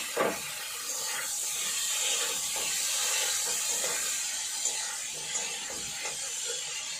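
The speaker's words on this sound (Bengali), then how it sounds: "এর মধ্যে প্রথমে ভেজে নেব আলুগুলো" Potatoes fry in a pan with a loud, continuous hissing sizzle close to the listener, and faint clicks and knocks are scattered through it.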